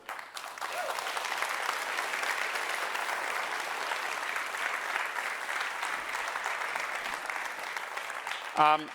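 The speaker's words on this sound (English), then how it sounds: "Please join me in a round of applause" Conference audience at the SME Assembly 2024 breaks into sustained applause, an even, steady clapping at moderate distance that rises and holds for several seconds before a voice cuts in at the end.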